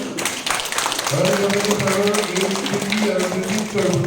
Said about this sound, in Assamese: আপোনালোকে জোৰেৰে এটা হাত চাপৰি বজায়